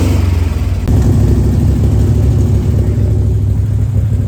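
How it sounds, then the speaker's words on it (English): An early Ford Bronco engine idles roughly with the choke fully on, a loud, steady low rumble with rattling, briefly catching and settling into a constant run after a short dip near the start. "Choke's all the way on, and they're rattling a lot, but it's running."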